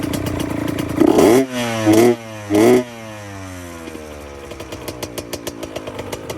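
A freshly rebuilt 2002 Honda CR80 two-stroke dirt bike, suspected of a carburetor problem, blips through three sharp, loud revs, then settles into a ragged idle that slows and breaks into spaced popping beats.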